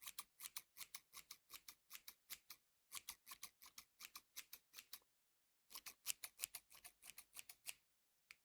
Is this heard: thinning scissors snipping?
yes